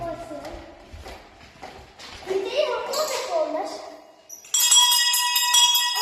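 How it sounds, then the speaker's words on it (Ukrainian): A school bell rings in a Ukrainian school building, a bright sustained metallic ringing that begins abruptly near the end after footsteps and voices talking nearby. "Давай, подзвони дзвінком."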